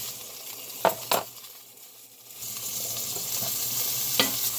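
Pork tenderloin sears in a hot pan with a steady sizzle that grows louder partway through, broken by a few sharp clanks of a utensil against the pan.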